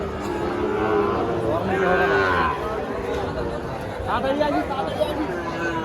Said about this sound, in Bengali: সবগুলো ষাঁড় বাচ্চা, সবগুলো ষাঁড় বাচ্চা।